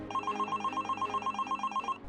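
A telephone rings in a home in a repeated electronic ringtone pattern, a steady series of bright pulses lasting about two seconds before it stops, clear and alone with no voices.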